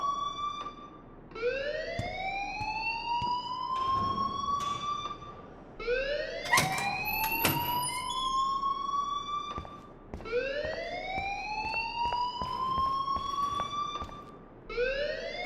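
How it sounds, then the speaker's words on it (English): A school alarm ringing inside Blackwell Academy in Life Is Strange, a loud rising wail that repeats in long sweeping cycles about every four seconds, with faint clatter beneath. "please turn off that alarm since that's your job"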